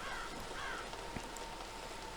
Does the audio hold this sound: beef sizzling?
no